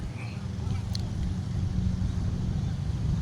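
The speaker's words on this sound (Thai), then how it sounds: "เรือลาก" A tow boat's engine drones low and steady at sea off Pattaya beach, where a parasail is being pulled. Wind noise buffets the sound throughout.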